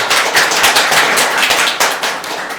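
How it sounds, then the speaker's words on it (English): An audience applauds a speaker being introduced at a talk indoors, with dense, steady clapping from a roomful of people that fades slightly at the end. "You guys give a round of applause for Lisa Begley"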